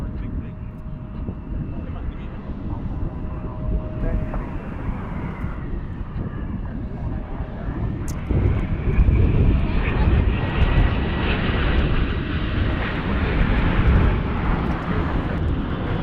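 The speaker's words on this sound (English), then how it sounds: "And here comes our MD-11." A McDonnell Douglas MD-11 airliner passing at DFW Airport in Texas. Its engine roar swells steadily louder and broader through the second half, while people talk over it.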